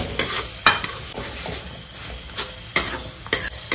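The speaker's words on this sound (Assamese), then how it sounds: "এতিয়া এনেকৈ ধুনীয়াকৈ ফ্ৰাই কৰি ল'ম।" Cumin and other whole spices frying in hot oil in a pan for a pork curry, a steady close sizzle broken by several sharp stirring scrapes and clicks.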